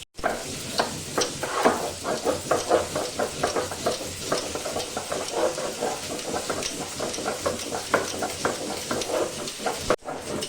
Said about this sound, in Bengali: সাদা সরষা কালো সরষাটা একসাথে বেটে নেব।